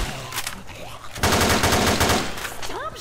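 Burst of rapid automatic gunfire from the co-op zombie shooter Left 4 Dead 2, loud and dense through the middle and last moments, with scattered game sounds and a rising whistle-like tone near the end.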